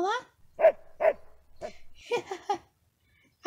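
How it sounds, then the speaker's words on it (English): A dog makes several short, sharp barks and yelps in quick succession, close and clear, alongside a child-like voice in a cartoon setting. "I have a new dog."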